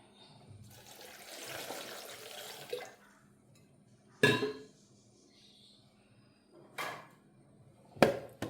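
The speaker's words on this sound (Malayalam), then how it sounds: "അതിലേക്ക് വെള്ളം ഒഴിച്ച് കൊടുക്കാം." Water poured over pieces of orange, apple and sweet lime in a jar for a healthy juice, a steady splashing pour for about two seconds, followed by a few short, sharp knocks or splashes later on, with no talking.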